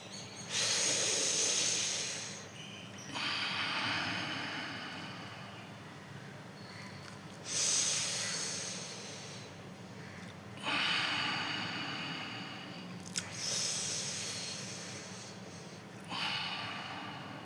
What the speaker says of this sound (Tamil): இதையும் வாயின் வழியாக மூச்சை உள்ளே இழுத்து மூக்கின் வழியாக வெளியிடும்